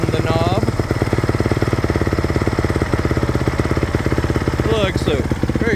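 Honda CRF450R four-stroke motorcycle engine idling on the fast idle setting, a steady close thumping throb throughout, with faint squeaks at the start and end.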